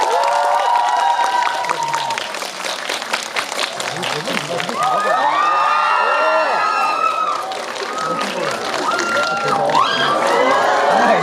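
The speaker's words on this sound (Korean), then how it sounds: "큰 박수로 맞이해주세요." A cinema crowd at a Korean film premiere claps and cheers loudly for the cast and director walking onto the stage, with shrill shouts and screams rising above the sustained applause and an announcer's voice mixed in.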